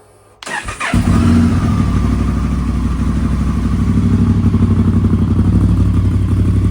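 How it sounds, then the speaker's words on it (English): Honda Africa Twin motorcycle after its first oil change: the engine cranks and catches after a short pause, then settles into a loud, steady, close idle with a rhythmic, even pulse. "Let the bike run just like we did in the beginning."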